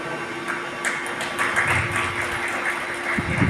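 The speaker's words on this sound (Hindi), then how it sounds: "तालियां।" A brief burst of crowd clapping at a Seva Bharti Holi Milan gathering, dense and fairly close for a few seconds.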